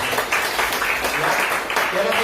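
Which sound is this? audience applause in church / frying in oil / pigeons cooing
audience applause in church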